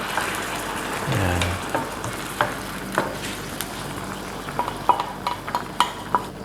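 Tomatoes sautéing in a pan for spicy spaghetti sauce, a soft steady sizzle with a brief stirring scrape and scattered light ticks of a utensil against the pan, close and fairly quiet.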